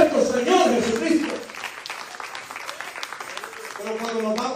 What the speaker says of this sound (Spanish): Denle un aplauso al pastor de los pastores también